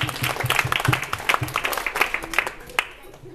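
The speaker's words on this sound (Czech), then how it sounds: "Já si myslím, že i tak si zaslouží ale velký potlesk za odvahu." An audience bursts into hearty, close applause after a daring stunt in which a cup flew off a spinning disc; dense clapping fills the clip, with a few voices mixed in, and it thins out toward the end.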